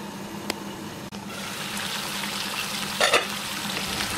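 Chicken roast in a pan just after milk is poured in, a steady bubbling hiss with a couple of sharp clicks and a brief scraping stir, near and without any voices.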